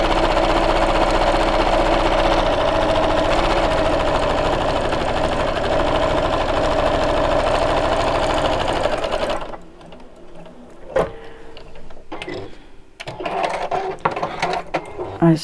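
A sewing machine stitches a 1/4 inch seam in a long, even mechanical whir that stops abruptly partway through, followed by quiet handling noises and someone speaking.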